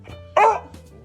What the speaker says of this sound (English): Stop it. Don't bark.